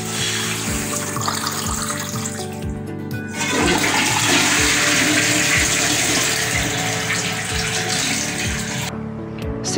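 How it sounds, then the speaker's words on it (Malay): A siphonic toilet flushes with a steady rushing of water that swells louder midway and keeps draining and refilling throughout, with no voices present. "Sistem siphonik lebih senyap berbanding dengan sistem washdown."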